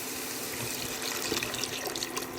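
Eight cups of water poured into a 5-quart stock pot for Louisiana Creole gumbo, a continuous splashing, hissing pour running steadily and fairly quietly without any voices.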